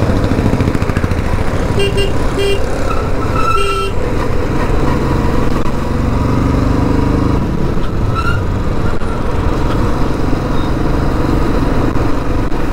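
A Royal Enfield Bullet Standard 350 motorcycle engine thumps steadily while riding through traffic, with a few car horns tooting nearby and road noise throughout.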